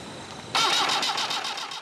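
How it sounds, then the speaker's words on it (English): An old tractor engine cranks and catches reluctantly after a short pause in Guyana, then runs with a rough, rhythmic chugging, loud and close. "The tractor, a relic floated upriver long ago, came reluctantly out of hibernation to help us with our task."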